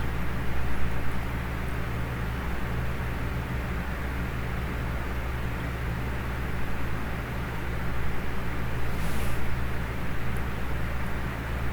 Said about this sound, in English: I've got a fan on, just kind of circulating the air in here